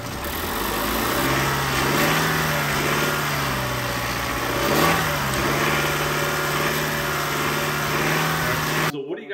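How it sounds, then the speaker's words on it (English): A Toyota Camry engine with engine trouble runs steadily at an auction lot, a close, continuous drone with a slight swell in pitch midway and faint rattly texture, ending abruptly. "this is what the engine sounds like"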